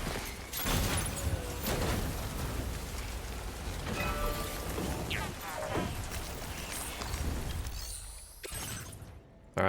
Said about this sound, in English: Incoming rain.